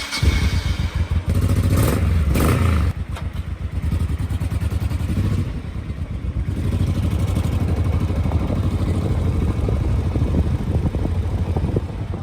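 A motorcycle fires up nearby with a few sharp revs and mechanical clatter, then pulls away, its engine holding a steady, rising drone as it rides off, with no talking.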